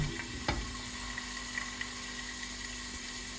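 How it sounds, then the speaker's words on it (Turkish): Steady sizzling and bubbling of potatoes cooking in a covered pot that is shaken and tossed, with a brief light clatter near the start. "Arada tencereyi sallayarak, arada da hoplatarak patatesleri pişirelim."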